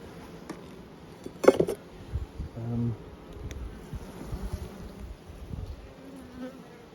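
Honey bees buzzing inside an opened hive, a faint continuous hum with a few louder passes near the listener and scattered clinks of equipment.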